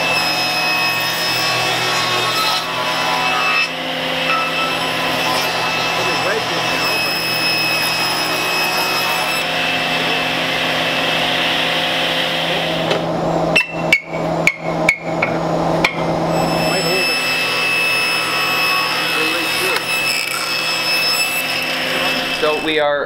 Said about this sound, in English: So we chip it off, usually the big chunks with the chisel